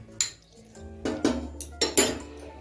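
Melted chocolate and fresh cream being stirred in a bowl, with a utensil clinking and scraping against the bowl in several sharp, uneven knocks, close and fairly quiet.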